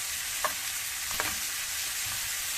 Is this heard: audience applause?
no